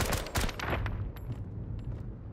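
Semi-automatic gunfire in the video game Road to Vostok: a quick string of sharp shots, each with a short rumbling tail, starts close and loud, then thins out into fainter, spaced reports.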